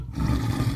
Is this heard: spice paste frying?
no